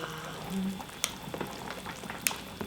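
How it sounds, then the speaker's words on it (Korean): Galbitang, a Korean beef rib soup, bubbling in an uncovered pot, with steady low simmering noise, a few sharp clinks and scrapes, and a faint voice in the background. "뚜껑을 열고서 팔팔 끓여."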